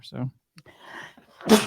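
A sneeze breaks out at the very end, loud and close after a stretch of conversational speech in a podcast about egg drinks.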